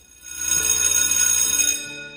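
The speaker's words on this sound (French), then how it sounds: "cloche à sonner" A bell rings out at the start of a French-language sermon, its bright tone sustained evenly for about a second and a half before ending, loud and close with no talk over it.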